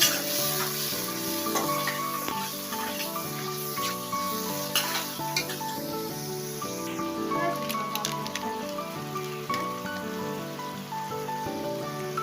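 Spices and tomato paste fry in a pan for a green-jackfruit vegetable dish, with a steady, close sizzle and repeated stirring scrapes throughout.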